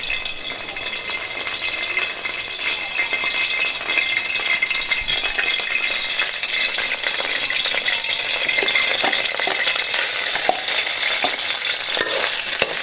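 Squid for sweet Thai-style squid stir-frying in very hot oil, a steady loud close sizzle with faint scraping and rattling of the pan throughout.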